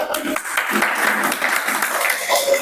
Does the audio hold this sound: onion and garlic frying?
no